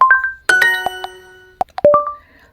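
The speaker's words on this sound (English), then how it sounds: "Her cell phone was making a really unusual sound." A cell phone ringtone in a Duolingo lesson: a short, loud electronic melody of bright, bell-like tones with sharp plucked notes, heard alone.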